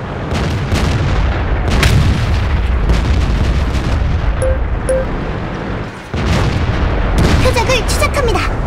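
Loud, close tank cannon blasts ring out in World of Tanks while driving a WZ-132 on the Airfield map, heavy booms over rumbling engine noise, with a few short alert tones and a voice speaking in between.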